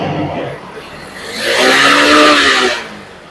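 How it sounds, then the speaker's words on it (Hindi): A TVS XL100 BS6 moped engine is revved with the throttle, rising to a loud, whining swell that holds briefly and then falls back, up close. "देखो अब बिल्कुल सामने आपके ये बिल्कुल लाइव जो है ये एक्सीलेटर पकड़ रही है"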